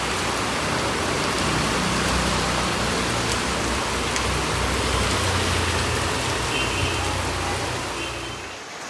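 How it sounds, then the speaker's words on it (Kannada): Heavy rain pours down outdoors in a steady, dense hiss that stays loud and unbroken for several seconds, easing slightly at the very end. "ಮಳೆ ನೋಡಿ ಎಷ್ಟು ಜ್ವರಕ್ಕೆ ಬರ್ತದೆ"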